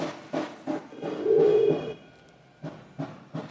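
Pet pigeons in a breeding loft give low, repeated cooing calls, several soft pulsing bursts with one longer swelling coo near the middle, close by and alone without talk.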